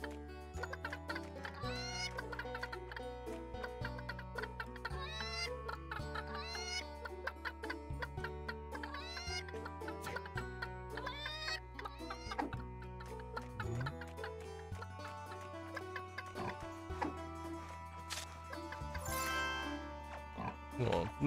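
Chickens cluck softly in the video game Secrets of Grindea, set against steady, tuneful game background music.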